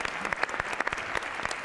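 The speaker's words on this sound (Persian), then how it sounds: "تورا سادات رو تشویق کنی" Audience applause at a studio TV talk show, a brief burst of steady clapping from many hands with no one talking over it.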